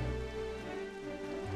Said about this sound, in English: It's starting to rain again. I hate the rain.